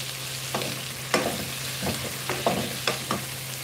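Papaya sautéed in a pan for chicken tinola: spatula scrapes and clinks land at irregular intervals over a soft frying sizzle and a steady low hum.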